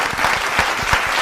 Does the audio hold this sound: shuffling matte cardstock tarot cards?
no